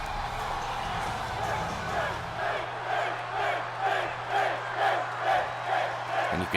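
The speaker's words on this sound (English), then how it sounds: "And you can hear the crowd chanting for Finn" A wrestling arena crowd in the video game WWE 2K20 chants for Finn in a rhythmic, repeated chant that swells and pulses at a steady beat over a low crowd roar and hum.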